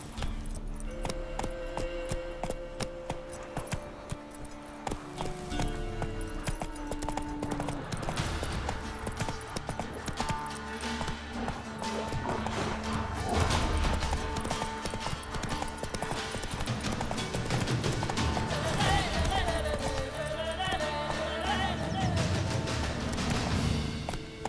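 Geralt's horse Roach in The Witcher 3 next-gen update on Steam Deck, hooves clip-clopping in a steady trotting rhythm with faint jangling tack and a brief snort, music playing underneath.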